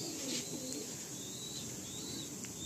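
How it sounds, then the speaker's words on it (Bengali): Giribaj pigeons of the Kala Sabuj variety cooing softly in a loft, with low murmuring coos barely rising above a steady hiss of background noise. "তো দেখুন এই যে একদম পুরো ফ্রেশ পায়রা"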